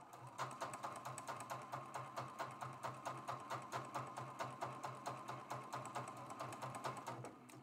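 A sewing machine stitches a quilt block seam with a fast, even mechanical chatter of repeating needle strokes and a low motor hum, steady and fairly quiet, with no voices.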